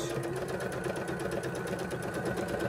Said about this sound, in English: we're going to start with a bit of a back stitch